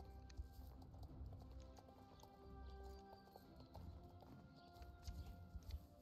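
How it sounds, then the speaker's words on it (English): A horse gallops in a video game, its hooves making a steady, quick clip-clop rhythm that stays fairly quiet and close, with no talking. "Not my horse running into shit."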